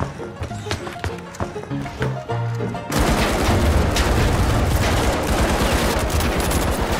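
Pistol fire in the video game The Finals: after a stretch of game sound, a dense, loud run of rapid shots erupts and continues steadily to the end.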